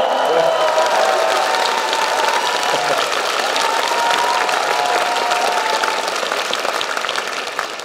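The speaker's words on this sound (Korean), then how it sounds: "박수 한번 쳐볼까요" Loud, dense applause from a large audience at a political talk concert in Daegu, with cheering mixed in, sustained evenly and close throughout without a break.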